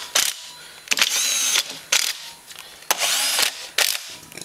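A ratchet tightens 10 mm bolts on a Foreman 500 air-cooled engine being assembled, with several short bursts of rapid close-up clicking separated by brief pauses and no voices.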